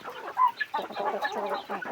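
A fighting rooster, a yellow-legged gamecock, gives a run of close, throaty clucks and short rising calls, closely spaced and fairly loud, with no one speaking.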